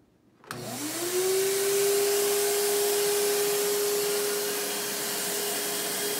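A Hoover Windtunnel Plus S3639 canister vacuum is switched on. It spins up quickly from near silence to a loud, steady whining drone with a clear motor tone, holding on close by with no talking.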